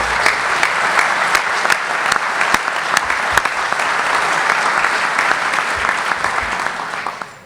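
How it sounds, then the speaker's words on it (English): An audience at a political convention gives a sustained round of applause, dense steady clapping at an even loudness for the whole stretch, tapering off only at the very end, with no voices over it. "a big round of applause"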